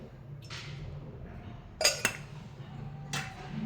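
A metal wok clanks onto a stovetop, with a couple of sharp metallic knocks and a clink, followed by quieter scraping.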